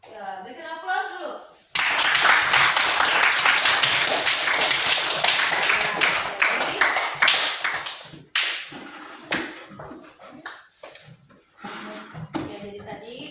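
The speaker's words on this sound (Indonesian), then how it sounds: "berikan aplaus dulu." Classroom applause from a group of junior high school students, a dense burst of clapping lasting several seconds that then thins into scattered claps, with a teacher's voice before and after.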